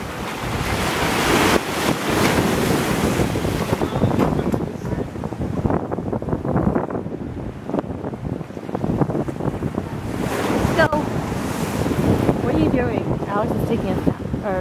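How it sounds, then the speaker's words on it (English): Ocean waves on the California coast crash and splash steadily with strong wind buffeting the microphone, a continuous loud roar of surf throughout. "I just love watching the water splash up"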